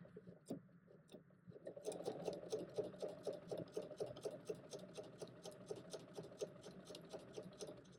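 A sewing machine stitching in the ditch along the seams of a quilt: a faint, rapid, even run of mechanical clicks starts after a brief lull and keeps going steadily.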